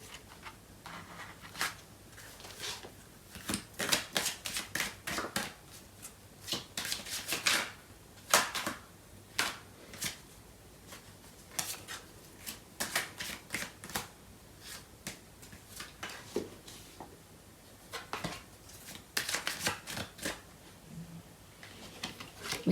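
Tarot cards being shuffled during a love reading, a long run of crisp riffling and flicking bursts that come in irregular clusters, close and fairly loud, with no voice over them.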